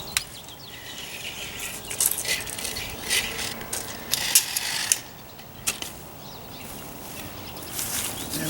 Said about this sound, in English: So I'll make a little snip here.